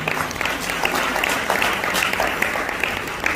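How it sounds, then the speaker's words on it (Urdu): Loud, dense applause from a crowd at a fundraising dinner in London fills the room in a sustained, even wash, with a voice faintly mixed in beneath the clapping. "تو ایک دفعہ بھرپور تالیاں غزالی ایجوکیشن ٹرسٹ کے لیے ہونی چاہیے."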